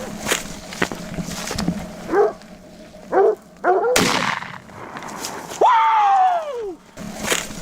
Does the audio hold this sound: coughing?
no